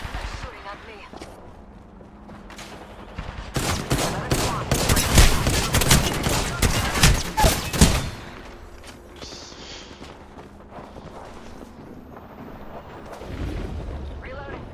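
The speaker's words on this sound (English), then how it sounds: "They're shooting at me." Gunfire in a video game, opening with scattered shots, then a dense rapid burst of automatic firing in the middle that tapers off into sparse distant pops and rumble.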